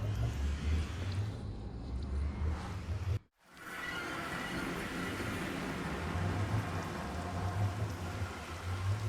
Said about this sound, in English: I don't even care that it's raining.